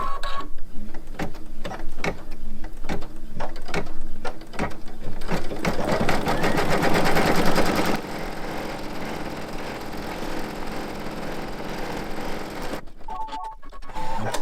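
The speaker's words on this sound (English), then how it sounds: "It'll be a double pass of running stitches to tack the fabric down in place." An embroidery machine runs a double pass of running stitches to tack appliqué fabric down on a blanket, a loud, fast, steady mechanical whirring and rattling throughout that stops briefly near the end.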